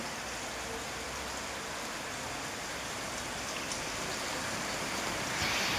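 A strong stream of water pours into a house, a steady soft rushing like heavy rain that holds for several seconds and swells slightly near the end.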